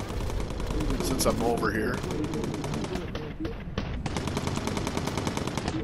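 Upgraded machine guns on a bomber aircraft in the video game Bomber Crew rattle in rapid, crackling bursts, with someone talking over the gunfire.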